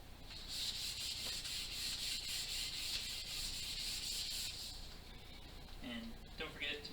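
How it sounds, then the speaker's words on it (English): Sandpaper is rubbed by hand over the hardwood of a gourd banjo, making a steady, rhythmic rasping of quick strokes up close that stops near the end, where a voice briefly speaks. "And we'll just sand it by hand now."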